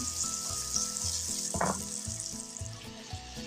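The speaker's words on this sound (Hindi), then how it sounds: "हरी मिर्च हमारी जो है वो फ्राई हो रही है।" Green chillies fry in oil in a pan, giving a steady close bright sizzle with faint stirring movement and no voices.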